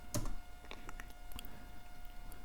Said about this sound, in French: il faut que je tape 120 au clavier